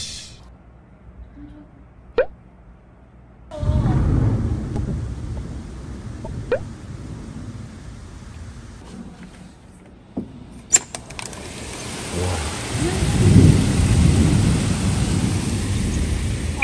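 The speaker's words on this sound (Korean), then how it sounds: "천둥 쳐서 무서워." Heavy rain pours steadily while thunder rumbles loudly at close range, with several sharp cracks and low booming rolls building toward a strong peak near the end.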